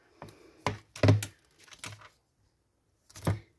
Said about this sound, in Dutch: ik ga mijn tape weer pakken en ik ga er plakband op doen